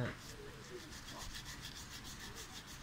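An old coin is rubbed with a mixture of soil and soap, giving soft, rhythmic gritty scrubbing strokes, close and faint, with no talking.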